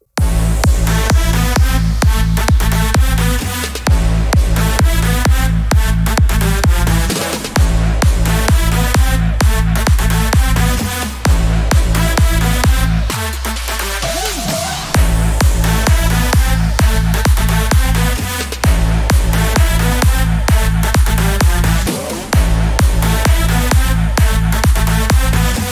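Full EDM drop built in FL Studio 20, with a pounding four-on-the-floor kick, drums, bright lead synths, stabs and effects, loud and continuous with brief breakdowns between phrases.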